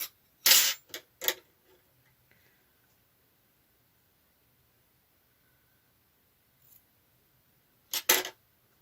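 Scissors snip through bulky coat fabric during sewing, a quick cluster of three or four crisp cuts near the start, then near silence, with another pair of close, sharp snips at the end.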